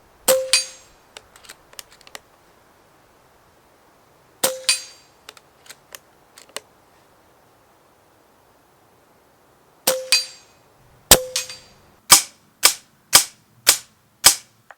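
FX T12 Synthetic air rifle firing, sharp metallic cracks each followed by small pings of pellets striking a target, single shots early and then a quick series of five near the end, close and alone.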